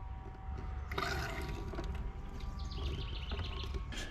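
Water runs through the plumbing of a camper van's city-water system once the valve is opened, a steady hiss and trickle held at an even level throughout, with faint high squeaks and chirps on top.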